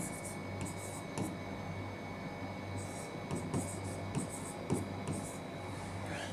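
A pen writing a name in block capital letters on a recruitment form, heard as soft, steady scratching strokes with brief pauses over a constant low room hum.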